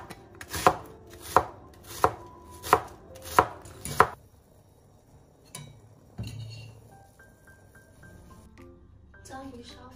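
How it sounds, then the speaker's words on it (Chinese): Onion being finely chopped with a knife on a board for takoyaki: six crisp, evenly spaced knife strikes up front, then quieter kitchen clinks and faint tapping, no speech. "洋葱切碎。"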